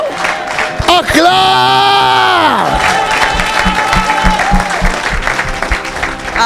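A church congregation at an evangelistic service bursts into loud applause and cheering, a dense sustained wash of clapping with whoops and shouts, and a sung or shouted voice rises above it near the start.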